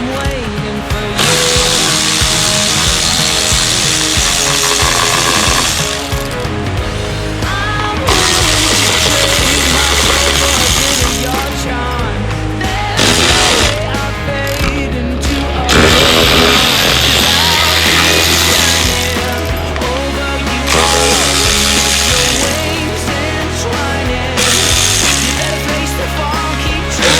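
Impact wrench rattling out stator cover bolts on a Yamaha Banshee, loud hammering bursts in several long runs with short pauses between them.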